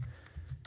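Typing on a computer keyboard in quick succession, a few soft close clicks and taps in a quiet room.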